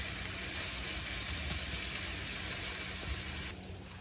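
Bacon frying in a pan for fried cabbage with Rotel tomatoes, giving a steady, close, even sizzle and hiss that runs without a break, then drops a little in level near the end.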